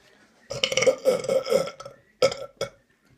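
Repeated loud, drawn-out belches from a man in a hundred-burp challenge: a long rolling burp with pulsing bursts, a pause, then two shorter belches close up.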